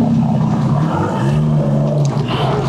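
An Aston Martin supercar engine runs steadily with a low, continuous rumble that stays fairly loud and even throughout, with no talk over it.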